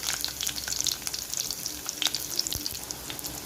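Garlic and green chillies fry in hot oil with fennel seeds in a clay pot for a Kongu fish curry, giving a close, steady crackling sizzle with scattered pops throughout, no voices.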